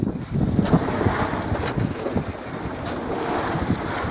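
Wind roars steadily past a sailboat as choppy, sloppy waves slap and splash against the hull in uneven bursts, with low rumbling thumps throughout and no voices.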